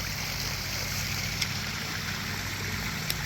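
A garden koi pond waterfall runs with a steady, close rushing splash, broken by a couple of brief clicks.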